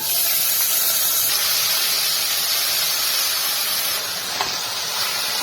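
Washed mung beans hit a hot pan with asafoetida, giving a loud, continuous steamy hiss of sizzling that holds steady and eases slightly near the end, with a faint clink.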